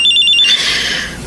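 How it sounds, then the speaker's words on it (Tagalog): A cellphone rings with a bright electronic ringtone, a rapid pulsing chirp that cuts off after half a second and leaves a soft room hiss with a faint rustle. "Cellphone ko."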